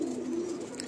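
A Mundi Sada pigeon coos once in a short, soft, throaty burble, close and steady over faint room background.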